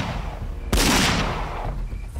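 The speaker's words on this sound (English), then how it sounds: "Then he fired two more times." A gunshot fired at close range in a suburban parking lot: one sharp, loud blast that cuts through a low background and fades over the following second.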